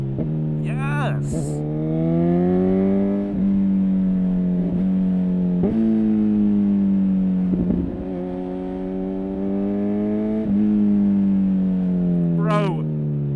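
A Honda Hornet motorcycle fitted with a Yoshimura exhaust revs and pulls through its gears, the engine note climbing and dropping again with each shift, loud and close, with a voice exclaiming between the pulls.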